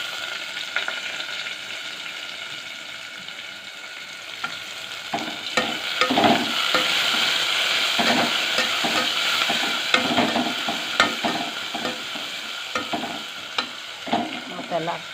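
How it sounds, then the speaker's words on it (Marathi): Onion sautéing in a pan with garlic and coriander, a steady close sizzle with stirring scrapes and clatter throughout, growing busier midway. "आता हे कांदा घेतला परतून. आता हे मोठा मोठा लसूण टाकते याच्यामध्ये."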